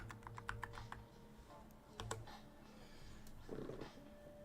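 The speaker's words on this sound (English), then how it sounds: "you're gonna be able to see my typing on the keyboard" Fingers typing on a computer keyboard: soft, irregular clicks in short bursts, close and quiet, with a few isolated keystrokes and pauses between.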